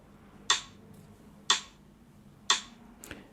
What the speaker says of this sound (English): One exercise that I can do is I can grab a metronome and set it to 60 beats